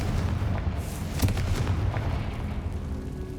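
A Confringo fire spell from Hogwarts Legacy lands as a short, deep booming blast over a dull rumbling background, with a softer thud or two following the main hit.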